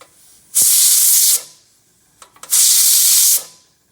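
Steam hisses out of a pressure cooker as the pressure is released, two loud bursts of about a second each separated by a short quiet gap with faint clicks, close and alone.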